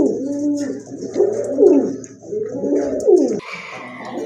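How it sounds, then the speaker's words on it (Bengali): Indian female pigeons cooing close up in a loud rhythmic series of rolling coos, then a short softer call at the end, with no talk. "বিগ সাইজের কোয়ালিটি ফুল একটা ইন্ডিয়ান মাদি কবুতর"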